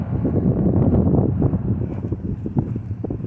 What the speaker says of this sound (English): get a lot of wind